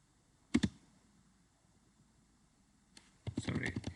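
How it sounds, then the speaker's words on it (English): Computer keyboard typing in short bursts, a brief double clack of keys near the start and a busier run of clicks toward the end, close and quiet against near silence. "so now I'm gonna type in install"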